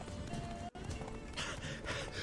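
Roach, the horse in The Witcher 3: The Wild Hunt, gallops hard in game audio, with a dense, steady drum of hooves and a brief dropout partway through.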